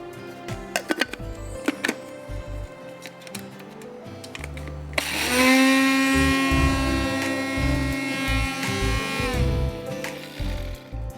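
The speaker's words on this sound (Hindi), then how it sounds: "इसमें मुझे ज़ीरा और धनिया यानी कोरिएंडर सीड्स और क्यूमिन सीड्स, इनको भी पीसना है।" An electric grinder whirs loudly as it grinds cumin and coriander seeds, starting abruptly after scattered kitchen clatter and running steadily for several seconds before winding down.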